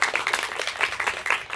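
A small audience at a student storytelling showcase gives a round of applause, with scattered individual claps in a quick, uneven patter, moderately loud.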